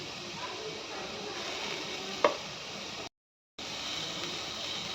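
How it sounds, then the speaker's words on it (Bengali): Lentils (dal) frying in a pan for a lentil curry, a steady soft sizzle and hiss with one brief clatter midway and a short gap of silence near the end. "এবার ডালটাকে একটু ভালো করে ভেজে নেব"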